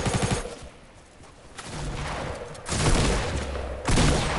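Gunfire in the Fortnite video game, rapid bursts of shots rising and falling in loudness over a few seconds, heard alone without talk.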